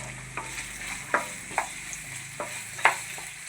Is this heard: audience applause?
no